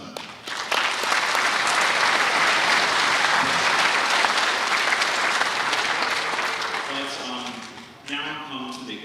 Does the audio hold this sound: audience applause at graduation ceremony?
yes